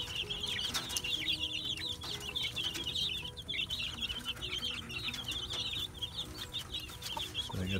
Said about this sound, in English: I put our one chicken in there that likes to be mom.